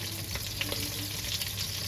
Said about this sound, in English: I'm going to stop talking for a moment now, so you can hear these sausages sizzle.